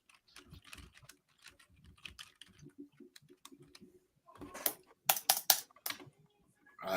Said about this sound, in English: I was typing out some messages there